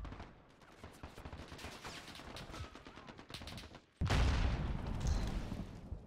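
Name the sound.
gunfire in video game Call of Duty Modern Warfare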